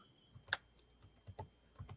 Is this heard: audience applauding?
no